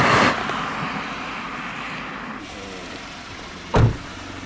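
A Honda N-ONE car drives at a gentle pace with a steady muffled cabin rumble and road noise, plus a couple of short louder thumps.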